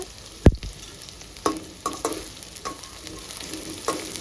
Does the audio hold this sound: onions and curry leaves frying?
yes